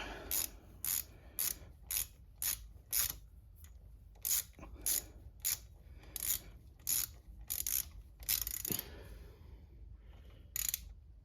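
A ratchet clicks in quick, evenly spaced bursts while snugging bolts during an oil change on a 2024 Honda Grom motorcycle. The bursts are crisp and close, with brief pauses between them.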